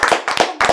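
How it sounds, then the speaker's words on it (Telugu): Three sharp hand claps in quick succession, loud and close, with short gaps between bursts and no talking. "క్లాప్స్ కొట్టండి రా"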